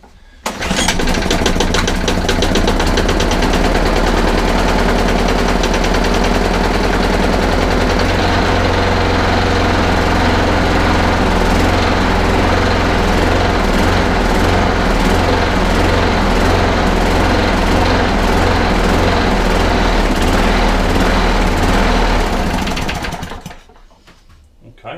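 An old lawnmower engine, unused for two years, catches and runs continuously at a loud, steady drone for over twenty seconds before cutting out near the end.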